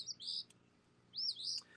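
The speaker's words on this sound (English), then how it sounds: "we're just sitting out here in the yard, and we have martins and cockatiels and a bunch of different birds" Wild birds chirp in a country yard, two bright bursts of quick tweeting calls separated by a short pause, fairly close and clear over a quiet background.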